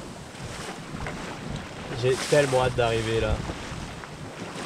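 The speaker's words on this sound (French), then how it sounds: "Et là le vent revient" Steady wind roars over a sailboat offshore on an ocean passage from Les Sables to the Azores, a broad constant rush with water noise, while someone speaks briefly in the middle.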